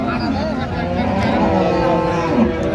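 A meat cow at a Cumilla cattle market lows in a drawn-out, wavering moo close by, with people talking underneath.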